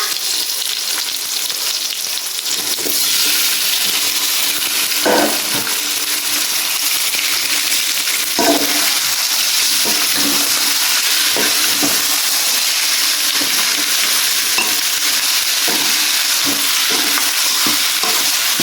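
Chicken with curry leaves frying and being stirred in a pan, a loud, continuous, close sizzle with occasional spoon scrapes and knocks against the pan, no talking.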